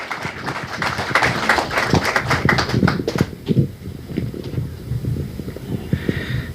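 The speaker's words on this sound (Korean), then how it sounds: "박수 부탁드리겠습니다." Audience at a book launch event claps for several seconds, a crowded patter of hand claps that thins and fades toward the end.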